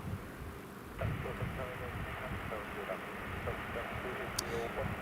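A Boeing 737 airliner inbound at Newcastle Airport gives a steady, broad engine roar from a distance, holding evenly throughout without clear rises or peaks.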